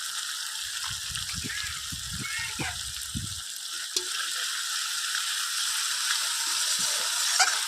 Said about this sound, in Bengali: এবার আমি আঁচটা কমিয়ে দিয়ে আস্তে আস্তে মশলাটা ভালো করে কষিয়ে নিই